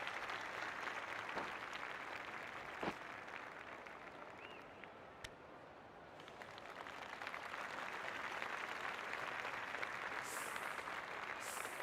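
Crowd applause and cheering at a T20 cricket match between Australia and South Africa in the video game Cricket 24, a steady broad roar at moderate level with a few sharp claps and whistles, no commentary.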